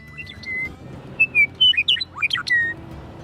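A person whistling an imitation of a bird call outdoors, producing a series of short, sharp chirps and squeaky tweets that rise and fall, loud and close over faint background noise.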